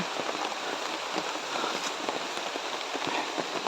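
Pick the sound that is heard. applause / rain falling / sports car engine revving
rain falling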